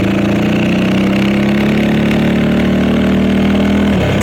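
A motorcycle engine pulling loud and close with a rising, buzzing drone as the rider eases the clutch out and rolls on the throttle after an upshift, ending with a short drop in pitch.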